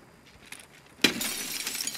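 Glass shatters suddenly in a tense indoor raid in Escape from Tarkov, a loud crash followed by a sustained spray of tinkling shards, after a quiet lead-in with a faint earlier clink.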